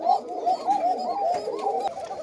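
Pigeons at a breeding farm giving soft, repeated rolling coos, close and clear, with several overlapping calls in a continuous burst.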